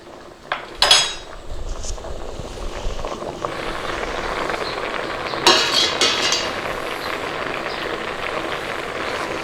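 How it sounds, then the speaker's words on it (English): Potatoes get a quick stir in a metal pot, with a few sharp clanks of a utensil against the pot near the start and again midway over a soft, steady background hiss. "Quick stir, mix them all around."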